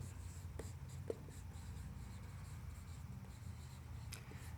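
Chalk or marker writing on a board during a Hindi chemistry lecture on benzaldehyde reactions, a steady scratchy stroking that runs for several seconds at moderate level, with no talk over it.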